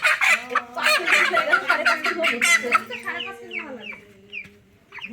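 Broiler chickens on a small home poultry farm, a flock clucking and chattering busily close by, dense overlapping calls that thin out toward the end with a few isolated clucks.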